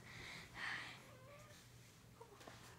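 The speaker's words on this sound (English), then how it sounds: "That's my sister's cat." A house cat gives a couple of short, faint meows indoors, drawn-out cries followed by soft rustling, with no talking over them.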